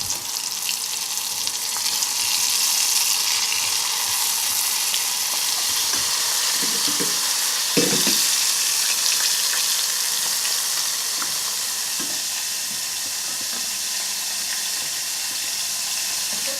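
King prawns deep-frying in very hot, near-boiling oil give a loud, steady hiss that fills the whole stretch, with a few brief clatters partway through and no talking.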